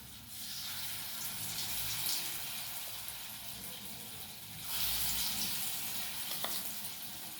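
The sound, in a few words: lentil pakoras frying in hot oil in a kadai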